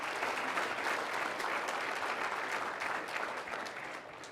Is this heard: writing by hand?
no